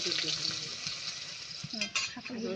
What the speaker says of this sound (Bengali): তেল দিলাম, কালো জিরে দিলাম, ছোটো করে রসুন দিলাম